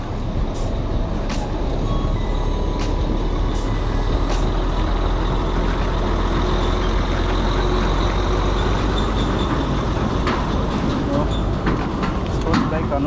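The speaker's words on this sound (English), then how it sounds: "A lot of traffic on this road today." Busy road traffic in Entebbe, Uganda, with a big truck rolling close by: a loud, constant low rumble of engines and tyres, a few sharp clicks and hisses from the truck, and faint scattered sounds layered over the steady roar.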